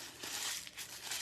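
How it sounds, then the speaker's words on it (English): Sheets of paper are crumpled in the hands, giving a close, faint, irregular crinkling and crushing with no voices. "But I'm going to crumple it up first."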